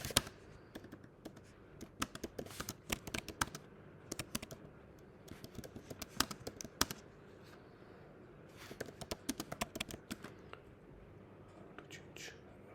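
Rapid clicking of a computer keyboard being typed on, in irregular bursts with short pauses, close and fairly quiet, with faint murmured speech in places.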